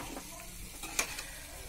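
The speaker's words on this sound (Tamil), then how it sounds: "கடுகு பொரியுது." Mustard seeds spatter in hot oil in a pan with dried red chillies, a soft steady sizzle broken by scattered sharp pops, one louder crack near the middle.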